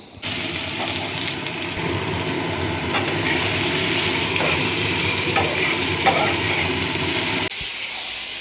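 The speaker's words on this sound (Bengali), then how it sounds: "দাঁড়া আলু ভাজাটা দিই।" Loud, steady sizzling and crackling of sliced potatoes frying in hot oil in a home kitchen, close up and continuous, with occasional stirring scrapes and no talk.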